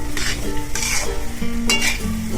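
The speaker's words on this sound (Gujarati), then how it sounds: "હવે આપણે છે ને લોટ બધો નાખી દઈશું। હવે આપણે એને શેકી દઈશું।" Flour for adadiya is stirred and roasted in ghee in a pan, with a steady close sizzle and rhythmic scraping strokes of the spoon against the metal.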